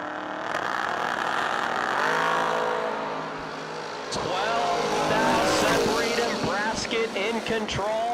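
A Ford Mustang race car laps a circuit, its engine revving and whining through gear changes, rising and falling as it passes, with a commentator talking over it throughout.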